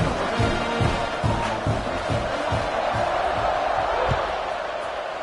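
Dense, steady roar of a college football stadium crowd cheering before kickoff, loud and continuous, with scattered thumps and whoops in the wash.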